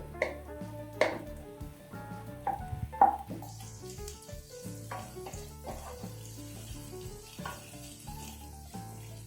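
Vegetables and rice fry in a pan for veggie rice, giving a steady crackling sizzle broken by louder scraping stir strokes, most frequent in the first few seconds, with a tonal background layer running underneath.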